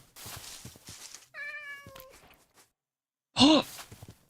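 A cat in the Minecraft video game meows, with one drawn-out, falling meow followed after a brief silence by a louder, sharper one, heard up close.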